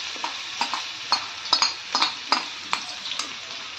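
Chopped onions sautéing in a pan for moong dal korma make a continuous sizzle broken by regular scraping stirs and light utensil taps, close up with no voices.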